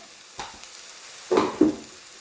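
Onions for chicken bhuna fry in a pan, a faint steady sizzle broken by two brief louder bursts of stirring or spattering.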